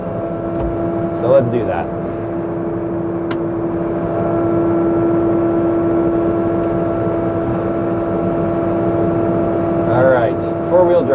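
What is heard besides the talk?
tractor with box blade, tires spinning, switching to four-wheel drive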